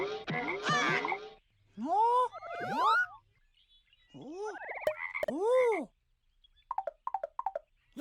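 A cartoon frog in a children's animal-names show croaks in a few long, bouncy calls, followed by a rapid run of short, quieter croaks.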